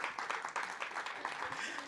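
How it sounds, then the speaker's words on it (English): An audience at a media event applauds, a brief burst of many hands clapping at moderate distance, fairly faint overall. "A round of applause for them."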